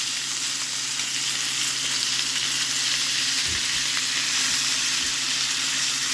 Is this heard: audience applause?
no